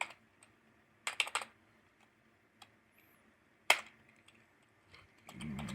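Keystrokes on an old desktop computer keyboard while writing in Microsoft Word, arriving as two short bursts of quick clicks separated by quiet gaps, with a few isolated taps in between and a low rumble near the end.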